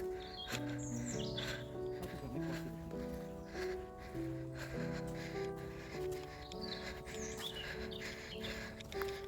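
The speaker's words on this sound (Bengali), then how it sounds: "কি সুন্দর পাখির আওয়াজ হচ্ছে না" Birds chirp and tweet in short bursts over a sustained tonal background, the calls fairly faint and intermittent.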